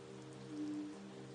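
Gentle rain falls as a steady, soft, even patter under a low sustained hum, quiet and unchanging throughout with no voices.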